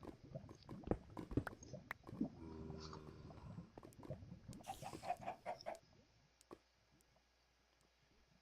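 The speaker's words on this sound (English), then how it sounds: "There's 2 chickens down here." Two chickens in a modded Minecraft world clucking in short, irregular bursts, fairly close, with scattered pecking patter and low game sounds, trailing off into near silence at the end.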